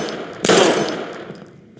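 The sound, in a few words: gunshot in the video game Life Is Strange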